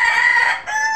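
A rooster crows once, close and loud, a bright strained call with a brief dip before a second rising phrase.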